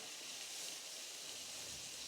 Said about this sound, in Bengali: আরও কিছুক্ষণ এইভাবে ভাজতে থাকবো।